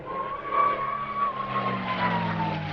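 A warbird fighter flies a display at the Little Gransden airshow in 2021, its engine a steady distant drone that rises slightly as it passes; no talking.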